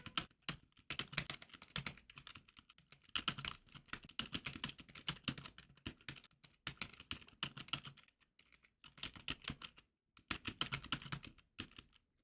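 Rapid clicking keystrokes on a computer keyboard come in quick bursts with brief pauses between, close and clear with no talking.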